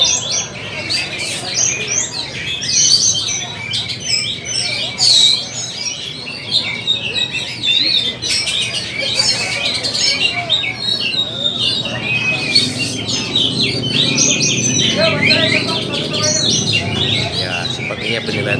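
Oriental magpie-robin (kacer) singing at a songbird contest: bright, busy chirping and warbling phrases run throughout, mixed with other birds and crowd murmur, with low voices and crowd noise growing toward the end.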